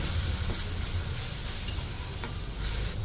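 Ginger garlic paste fries in hot oil for a drumstick curry, giving a loud, continuous broadband sizzle close up, steady throughout with faint stirring scrapes.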